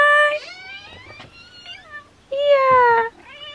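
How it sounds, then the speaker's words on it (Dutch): A cat meows loudly and close by, two drawn-out cries separated by a short pause, with faint background noises in between. "Even kijken waar die kat is trouwens."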